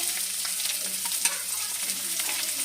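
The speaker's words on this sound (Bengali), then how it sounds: "আর এখানে আমি একটা গোটা বড় পেঁয়াজ নিয়েছি সেটা ভেজে নেবো এর সাথে" A whole large onion frying in a pan of oil with cumin and bay leaf, a dense steady sizzle close up with faint stirring scrapes and no voices.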